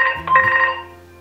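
A telephone rings in a short electronic tone burst with a brief trill, fading out after about a second, heard alone.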